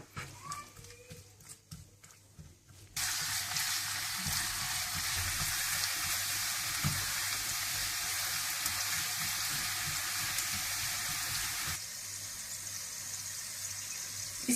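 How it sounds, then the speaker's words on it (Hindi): Chopped onions hit hot oil for a moong masoor tarka dal and burst into a loud, steady, close-up sizzle that holds for several seconds, then drops to a slightly softer crackle near the end. "और तड़के के लिए आप थोड़ा सा तेल गरम कर लें। इसमें आप प्याज डाल दें।"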